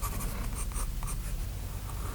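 A pen inks a dragon sketch on paper, producing quick, close scratchy strokes in a rapid rhythm, soft but continuous, with no talking.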